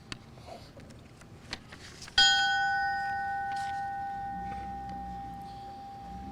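A memorial bell at a fallen firefighter ceremony in Edmonton, Alberta, struck once loudly and left to ring out in a long fading hum over faint room noise, with a few soft clicks before the strike.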